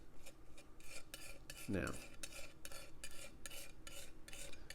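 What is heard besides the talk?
mixing homemade oil paint with a palette knife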